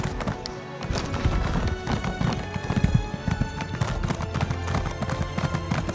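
A horse's hooves clip-clop steadily and close in The Elder Scrolls Online, a dense, continuous trotting rhythm with game ambience underneath.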